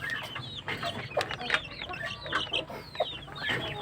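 Rhode Island chickens on a small farm cluck in close, irregular bursts, several birds calling over one another nearby.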